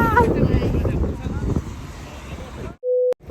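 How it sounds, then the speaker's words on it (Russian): Strong outdoor wind buffets the microphone in a loud, continuous roar that fades slightly, then cuts off abruptly and is replaced by a short steady electronic tone. "на улице дует ужасный просто ветер"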